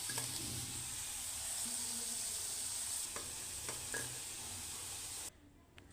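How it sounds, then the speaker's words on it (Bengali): Continuous bubbling sizzle of potatoes frying in oil, with a few stirring scrapes, fairly quiet and close, cutting off near the end. "আলুগুলো লাল লাল করে ভাজা হয়ে গেছে"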